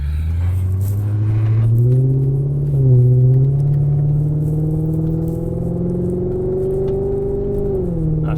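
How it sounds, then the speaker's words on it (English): A car's engine rumbles steadily from inside the cabin as it accelerates, the pitch rising through a gear change around the middle and climbing again, loud and continuous with no talking. "this car sounds really good under acceleration"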